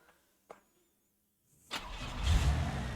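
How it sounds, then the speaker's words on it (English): A Holden car with a 3.8-litre Buick V6 in the BeamNG.Drive driving game: a couple of faint clicks, then the engine cranks and fires into a loud, rough idle that settles and continues, with no talk. "what's the bet it's going to sound like your typical BeamNG V6?"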